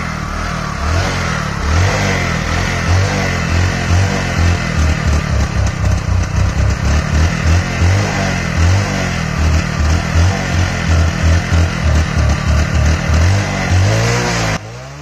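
An old Bajaj Discover 100 motorcycle engine runs close by with a loud, steady low thumping beat, revving up and easing off in repeated swells for most of the stretch, with no voices.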